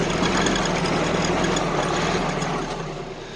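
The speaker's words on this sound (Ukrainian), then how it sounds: "працює лопата." A tractor with a front blade works, its engine running with a steady low rumble and knocking idle that stays loud, then eases slightly near the end, with no talk.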